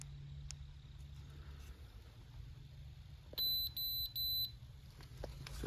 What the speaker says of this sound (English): I've just got it down to where it's just the 3 beeps indicating it's a 3-cell LiPo.